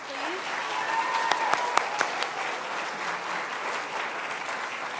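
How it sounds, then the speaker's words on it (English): Sustained round of applause from an audience at the WFBA high school awards ceremony, with dense steady clapping and a few sharper claps standing out, holding an even level throughout. "Give them another round of applause, please."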